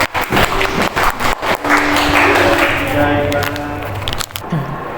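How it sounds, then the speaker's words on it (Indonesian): Applause from a classroom audience for a student named Mila after a timed two-minute quiz round, clapping spread across the room with some talk and noise mixed in. "tepuk tangan buat Mila"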